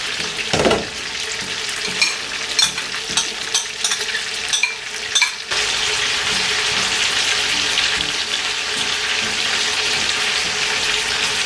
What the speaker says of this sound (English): I'm gonna add it to the custard that is already boiling on the pot